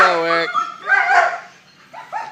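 Young personal protection dogs bark and yip close by in a loud, excited burst, with some whining tones between barks.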